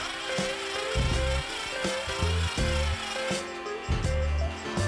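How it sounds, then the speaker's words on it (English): Power drill boring holes into wood, likely a cordless driver, heard as repeated bursts of motor whine and chewing wood, several separate drilling runs close up with short pauses between. "Next up, drilling"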